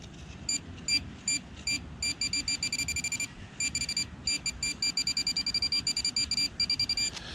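A metal detector sounding over a buried penny emits rapid, high-pitched electronic beeps in irregular bursts over a low rumbling background, steady and fairly quiet.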